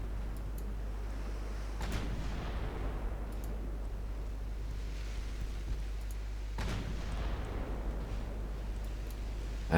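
Battleship secondary guns firing in Ultimate Admiral Dreadnoughts, two or three distant booming reports spaced several seconds apart over a low steady rumble.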